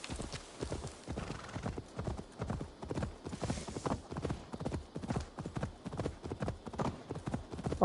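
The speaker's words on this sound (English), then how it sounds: "Come on, horse, don't fail me now." A galloping horse in the game Assassin's Creed Valhalla pounds out fast, steady hoofbeats, close and loud, a driving clip-clop rhythm that carries on unbroken.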